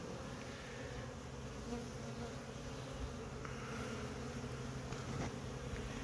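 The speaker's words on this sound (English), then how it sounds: "there's a bee on my phone." Bees hum steadily around a hive outdoors on a winter day, a dense, continuous buzz close to the microphone with no pauses or talk.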